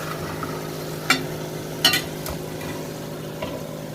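South Indian blue crab curry being turned in a pot after the lid comes off, a low simmering bubble with a few sharp scrapes and clinks of a spoon against the metal, close by and without talk.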